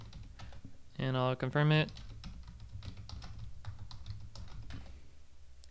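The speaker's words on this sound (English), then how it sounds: "And then the password, I'll type that in for me." Password typed on a computer keyboard during a phpMyAdmin install on an Nginx server: a steady run of light, quick key clicks, close and fairly quiet, with a short burst of speech partway through.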